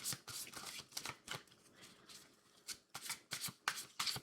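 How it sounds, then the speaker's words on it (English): Oracle cards being shuffled in quick, crisp riffling bursts, close up, with short pauses between rounds and no talking. "Let's just shuffle these up here."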